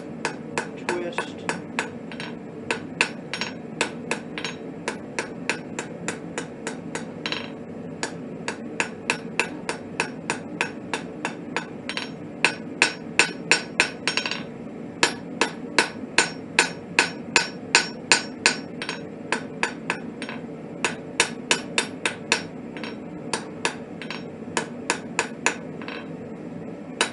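Sharp, ringing hammer blows strike hot steel on an anvil while a hook is forged, falling in quick steady runs with brief pauses, close and loud throughout, with no voices.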